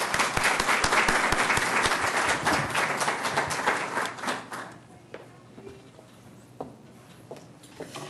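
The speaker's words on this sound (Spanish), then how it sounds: "pido un gran aplauso para todos y cada uno de ellos." An indoor audience at a university book-launch event bursts into loud, dense applause that fades into scattered clapping after about four seconds, heard close and without talk.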